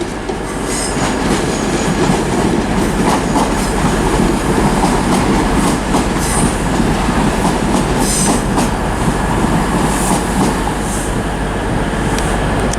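Cross-country train 220011 arriving at Bristol Parkway station, a loud, steady rumble of wheels and engine with clattering rail noise and occasional squeals, close by and continuous throughout with no talking.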